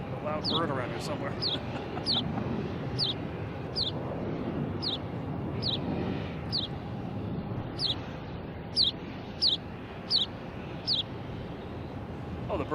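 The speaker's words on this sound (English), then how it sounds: "A loud bird around here somewhere." A bird near the microphone at an airport planespotting spot gives a regular series of sharp, loud chirping clucks, repeating about once a second over a constant roar of wind and distant aircraft noise.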